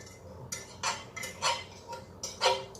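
Metal utensil scraping pork carnitas in a cooking pot, five or six distinct sharp scrapes in an uneven rhythm, close and fairly loud with quiet gaps between strokes.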